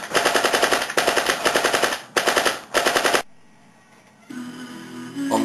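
Small arms gunfire in a First World War trench setting: several rapid bursts of machine-gun-style shots, loud and close, separated by short gaps, then a quiet pause and a fainter noisy tail.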